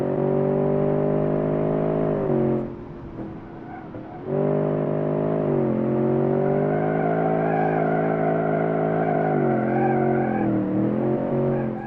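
A heavy four-door American sedan drives in a video game, its engine a steady, loud droning hum that drops briefly before resuming and shifting pitch slightly as it cruises.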